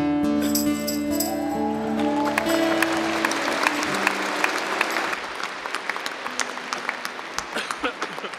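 Audience at an open church prayer meeting breaks into applause: sustained, dense clapping that grows rattly and scattered toward the end, mixed with a lingering sung or spoken tone early on.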